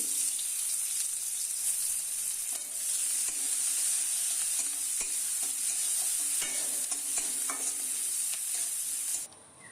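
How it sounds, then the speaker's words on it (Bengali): Chopped onions hiss and sizzle in hot oil left from frying pomfret, with a spoon of black cumin already tempering, in a home kitchen; a steady close frying hiss runs throughout with occasional stirring scrapes, and it cuts off just before the end. "এবার কেটে রাখা পেঁয়াজগুলো দিয়ে দিচ্ছি।"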